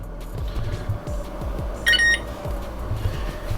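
A kitchen timer is set for 30 minutes, giving a short, bright cluster of electronic beeps over a steady low hum from the surrounding appliances.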